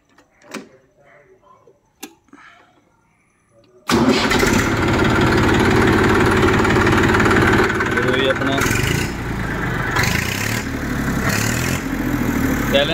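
A Massey Ferguson 241 tractor, about twenty days old and fitted with a thin silencer, cranks and fires after some quiet talk, then runs loud and steady at idle without pause.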